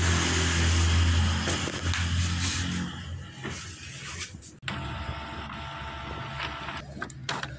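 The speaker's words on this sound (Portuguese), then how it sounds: "E vamos lá para a impressora ver ela imprimindo." A desktop printer runs a print job of several pages, giving a steady mechanical whir and rumble that shifts partway through as paper feeds, close and continuous with no talking.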